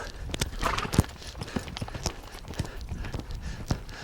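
A BLM mustang lopes through flying lead changes in an arena, its hooves thudding in a steady rhythmic clip-clop of moderate loudness, with no talk over it.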